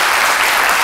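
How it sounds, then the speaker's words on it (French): A short burst of dense applause from an audience clapping for actors, loud and close, filling the whole moment without pause. "Jessica, on applaudit nos acteurs."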